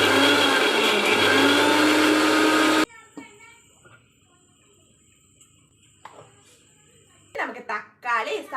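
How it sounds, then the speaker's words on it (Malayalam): A mixer grinder crushes ginger and garlic for chicken curry in a loud, whirring burst of about three seconds, then stops. Quiet kitchen sounds and a speaking voice follow. "ഇനി നമുക്ക് ചിക്കൻ കറി വെക്കാൻ വേണ്ടിയിട്ട് ഇഞ്ചിയും വെളുത്തുള്ളി എല്ലാം ഒന്ന് ചതച്ചെടുക്കാവേ"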